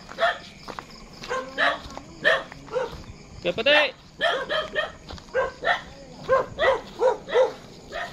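A dog barks repeatedly outdoors, a string of sharp rhythmic barks and yips close by, mixed in with someone speaking over them.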